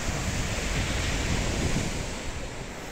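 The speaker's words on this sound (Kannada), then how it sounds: "ಇಲ್ಲಿ ತನಕ ಸಮುದ್ರದ ಅಲೆ ಬಂದು ಹೋಗಿದೆ" Sea waves at Malpe beach, a dense, steady roar of surf mixed with gusty wind buffeting the microphone, loud and unbroken throughout.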